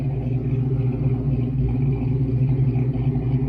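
Ford Mustang Foxbody V8 idling around 900 RPM, a loud, steady low burble with rhythmic rumbling pulses and no speech over it.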